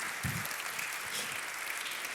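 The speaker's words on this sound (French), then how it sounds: "On peut vous applaudir également" Brief, fairly faint audience applause at an evening mentoring event, a dense patter of clapping with a low thump near the start.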